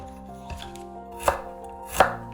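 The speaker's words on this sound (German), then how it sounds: "Lauchzwiebel grob schneiden." A knife chops spring onion coarsely on a cutting board, giving three sharp, crisp knocks spaced about a second apart over a soft background hum, with no talk.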